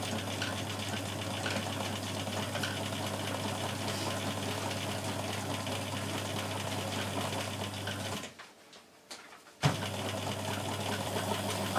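A domestic sewing machine stitches a double line, running at a steady, continuous whir. It stops briefly near the end, then starts up again, loud and close, with no talking.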